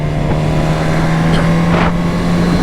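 A 2023 Suzuki GSX-S 1000 motorcycle climbing a road toward the Paul Ricard circuit, a steady loud engine drone with a constant low hum under heavy wind rush, no talking.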